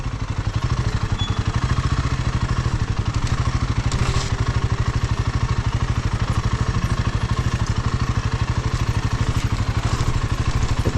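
A motorcycle crosses a small water crossing on a rough route to Sinja Valley in Nepal, its engine chugging in a steady, close, low thumping rhythm with light clatter throughout.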